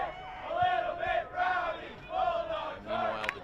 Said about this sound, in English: the cheer in the distance being raised by the varsity boys soccer team